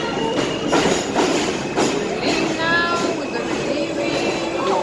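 A New York City Q subway train passes close by, a steady loud rumble with rhythmic wheel clacks and rising metallic squeals from the rails.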